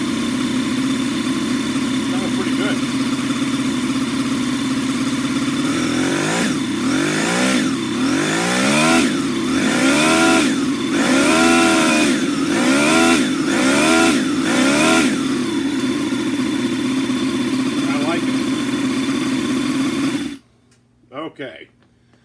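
TOYAN FS-B400 four-cylinder model engine running close by at a steady buzzing idle, then revved repeatedly in a quick series of rising and falling bursts before it cuts out abruptly, leaving near silence.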